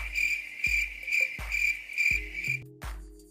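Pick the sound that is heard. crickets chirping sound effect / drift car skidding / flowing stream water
crickets chirping sound effect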